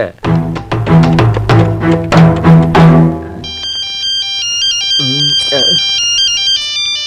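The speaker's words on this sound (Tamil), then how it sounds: "இந்த நேரத்துல ஐஸ் வட்டிக்காரன் மணி அடிக்கிறான்" An ice cream vendor's bell rings out in a loud run of repeated ringing tones, then gives way to a high, steady electronic chime melody, with a brief voice heard partway through.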